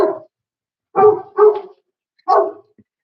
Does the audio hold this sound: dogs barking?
yes